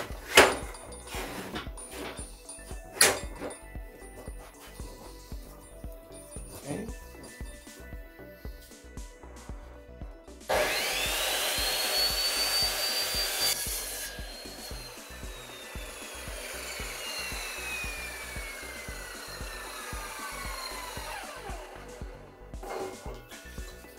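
Handsaw cutting wood at a 45-degree angle, set with a combination square, a rough rasping stroke pattern with a denser, louder stretch of sawing midway, close and alone without speech.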